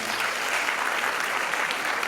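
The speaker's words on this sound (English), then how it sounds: "Keep clapping for him." A steady burst of crowd applause for a top candidate at a West African Examinations Council ceremony in Freetown, Sierra Leone, many hands clapping at once, fairly loud and even throughout.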